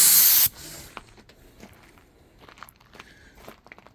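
A short, loud hiss of UV-curing primer sprayed from a can, lasting about half a second, followed by faint handling clicks and taps at close range.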